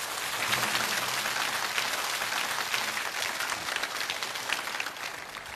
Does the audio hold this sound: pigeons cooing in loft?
no